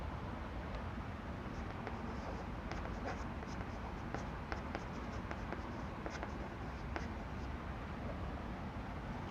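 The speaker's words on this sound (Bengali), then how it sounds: "তো আমরা এখন লিখে দিতে পারবো উত্তরটা" A pen scratches across paper while a maths answer is written out, soft intermittent strokes and taps, quiet and close, over a faint background hiss.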